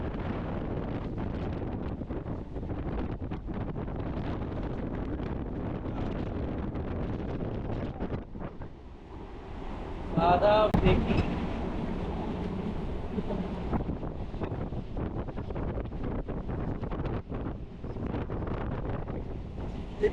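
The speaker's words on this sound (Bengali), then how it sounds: "আমরা কিন্তু এখন শিয়ালদার যে লোকাল ট্রেন, সেই লোকাল ট্রেনে রয়েছি" Inside a moving local train bound for Sealdah, a constant low rumble and rattle of the carriage runs throughout, with wind buffeting the microphone, a brief louder surge near the middle, and a few spoken words.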